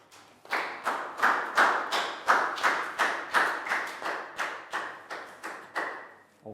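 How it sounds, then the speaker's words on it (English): A primary school class claps together in a steady rhythm for a classmate, about fourteen sharp, even claps at a brisk pace, fairly close, with no talking. "Big round of applause for Pak Bung."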